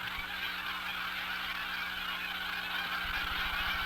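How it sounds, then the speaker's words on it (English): Migrating geese and other waterfowl call in a steady, distant chorus of honks at Catahoula Lake, a big, shallow lake in Louisiana, with a few lower pulses near the end. "Louisiana receives its great migrations of waterfowl"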